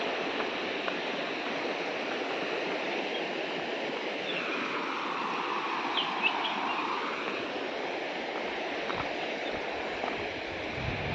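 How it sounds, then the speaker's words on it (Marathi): Steady rushing water flowing through a chain fills the whole stretch, a continuous close roar with no talking and a faint chirp above it. "पाण्याचा आवाज बघा किती येतो साखळीचा"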